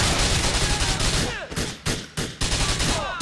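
Rapid bursts of gunfire in Grand Theft Auto IV, aimed at the player, crackle densely and loudly throughout, with a few brief gaps between volleys.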